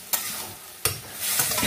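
Bottle gourd greens frying in a pan as their cooking water is poured in, two sharp hissing bursts followed by a steady, rising sizzle with light stirring, no voices.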